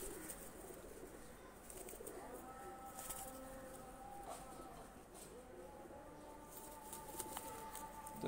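A pair of red-necked pet pigeons, a breeding pair kept indoors, gives soft, faint cooing with a few brief wing stirs against a low, steady room hum.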